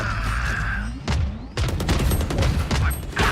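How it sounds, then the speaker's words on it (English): Missiles launching in Valorant as a rapid barrage of blasts and whooshes, loud and close, packed into a few seconds with dense overlapping explosions amid game noise. "All missiles away."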